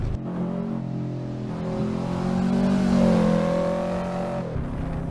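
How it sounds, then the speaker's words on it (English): A Subaru WRX race car engine in Assetto Corsa drones steadily with harmonic exhaust and intake tones, rising slightly in pitch and loudness midway before easing back, continuous for about five seconds. "You can hear the exhaust sound and the intake noise."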